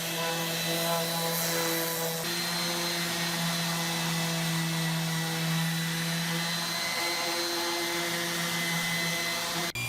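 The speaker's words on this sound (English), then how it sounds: "just give it a quick once-over on a large flat sanding block, just to make sure it's completely flat" A power sander whines and hums steadily for the whole stretch while exotic wood is worked flat on a large flat sanding block, loud and close with no talking.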